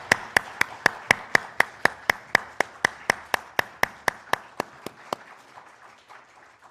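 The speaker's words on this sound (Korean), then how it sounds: "하나님께 영광의 박수 올려드리겠습니다" A church congregation claps in steady unison, about twenty sharp claps on an even beat, loud and close, before it fades out into a quiet room.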